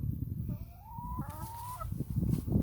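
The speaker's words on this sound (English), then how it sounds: "We'll just say hi to the chickens while we're here" Farm chickens cluck and make a drawn-out squawking call nearby, one bird prominent against low rustling and a rumbling outdoor background.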